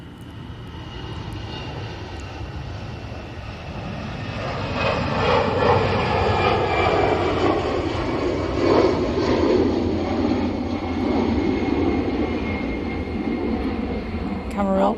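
Jet airliner on the Malaga flight at Manchester Airport, a broad, steady engine roar that swells and stays loud as the aircraft passes, with faint talk mixed in.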